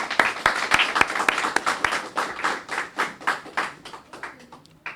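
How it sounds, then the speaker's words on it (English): Audience hands clap steadily for winners at a prize giving ceremony, close and lively with individual claps distinct, gradually thinning out toward the end. "Let's have a round of applause for them, please."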